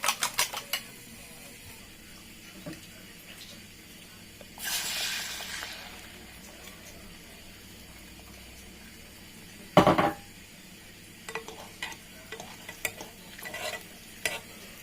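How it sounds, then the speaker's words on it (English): Whisking ingredients in a bowl while getting a birthday meal ready at home, a soft scraping swirl with a brief brisk burst partway through and scattered light clinks of utensil against the bowl, fairly quiet and close. "Whisk."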